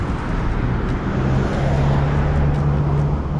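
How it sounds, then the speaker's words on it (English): Steady city road traffic with vehicles passing continuously at close range, a broad loud rumble of engines and tyres with a low engine drone, near a public park in a busy urban area. "traffic is a lot, people, vehicles"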